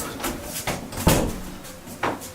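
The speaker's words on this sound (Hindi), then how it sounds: "अंकल प्लीज दरवाजा बंद कर दे" A door pushed shut indoors during a family gathering makes a single solid thud near the middle, with softer knocks and rustling around it and no speech over the sound.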